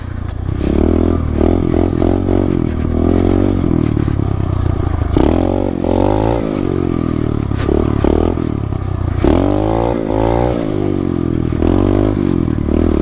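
Loud, close revving from a 2016 SSR 125 pit bike during wheelies, its engine surging and falling in repeated bursts with rattling and clattering throughout.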